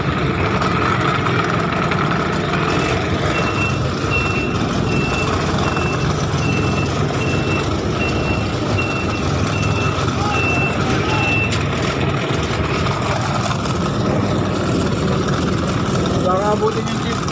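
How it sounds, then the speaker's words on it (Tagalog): A jeep reverses on a flooded street during heavy rain, its reversing alarm beeping in a steady, evenly spaced pattern over an idling engine and the wash of rain and water, while someone talks. "So, Kachuper, na-atras na natin yung jeep."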